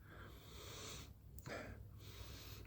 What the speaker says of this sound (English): We'll have a sniff.